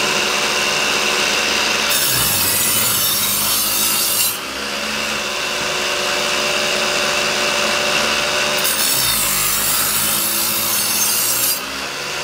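An electric knife sharpener with grinding stones sharpens a knife: a loud, steady grinding rasp that comes and goes in long passes as the blade is drawn through.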